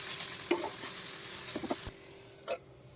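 Onion and chicken fry in a lightly oiled pan, nearly done, giving a faint, low sizzle broken by a few soft stirring knocks and scrapes.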